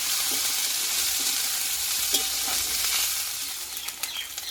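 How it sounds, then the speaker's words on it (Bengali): Tomato and ginger sauté in hot oil for a vegetarian pointed gourd dish, with a steady close sizzle broken by a few spatula scrapes and soft clinks, no talking. "এখানে টমেটো, আদা আর টমেটোটা একটু ভালোভাবে কষিয়ে নেব।"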